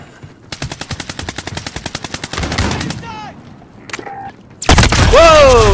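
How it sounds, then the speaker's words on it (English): Rapid automatic gunfire from the video game Warzone Zombies, a steady loud burst of evenly spaced shots, followed by heavier blasts and sharp whining game effects. "And the guy is shooting at."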